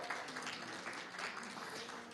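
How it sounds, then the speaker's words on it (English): A symposium audience on inequality in Europe applauds a presenter before her talk. The clapping is soft and distant, a uniform patter that holds steady throughout without any talk over it. "Big applause to Biljana before she starts"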